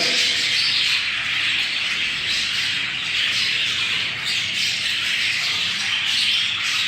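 Many birds in an indoor breeding room keep up a dense, continuous chorus of chirps and squawks, loud and close with no talk.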